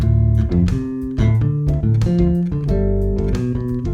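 Electric bass guitar plays skipping arpeggios over a 2-5-1 progression, deep plucked notes leaping between chord tones in a steady, close, full-sounding line.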